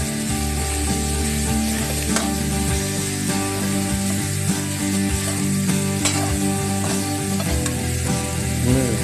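Frog stir-fried with curry paste in a pan, a loud continuous sizzle with frequent metallic spatula scrapes and clanks against the pan, steady and close throughout with no voices.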